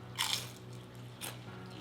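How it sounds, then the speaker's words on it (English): Close crunchy bites into a fried wonton: a loud crisp crunch, then a second softer crackle about a second later, with no talking. "That crunch is amazing."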